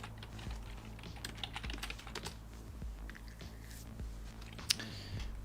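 Quiet, steady typing on a computer keyboard, rapid soft key clicks with an occasional sharper tap, alone without speech.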